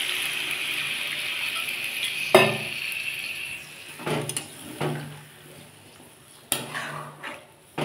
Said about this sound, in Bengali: এবার আমি জল ঢেলে দেবো।